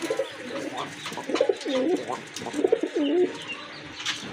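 Racer pigeons cooing close by, several rolling warbled coos in a row against a faint background.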